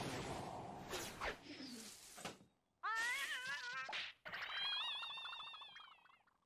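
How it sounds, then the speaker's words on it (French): A cat meows several times in the French dub of the anime Naruto Shippuden, drawn-out wailing cries with rising and falling pitch, separated by brief gaps, fairly close. "Ce n'était qu'un chat."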